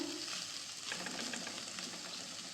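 Kerala-style fish thoran with ginger, onion and garlic is stirred in a hot pan, giving a steady close sizzle and frying hiss with soft scraping of the spoon and no talking.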